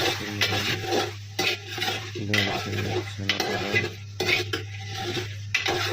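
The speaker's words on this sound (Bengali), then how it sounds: "ভালো মতো কষিয়ে নিচ্ছেন। এই নাড়াচাড়ার ভিতরে কষানো হচ্ছে।" Tomato and spices being sautéed in a pan, with repeated scraping and clinking of a metal spoon against the pan in an uneven rhythm over a low steady hum and a faint sizzle.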